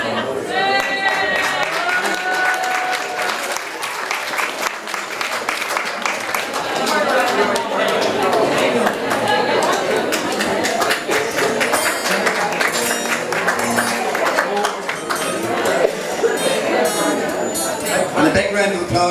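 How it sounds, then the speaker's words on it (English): Audience applause at a Derryhallow School reunion, a dense, steady wash of clapping from a crowd filling the room for the whole stretch, with voices mixed in beneath. "And a big round of applause for Lawn now, thank you."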